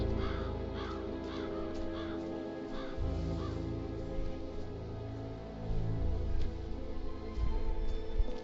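Crows cawing repeatedly in a zombie-mode shooter video game, a series of harsh caws layered over a steady low game hum and rumble, with no talk.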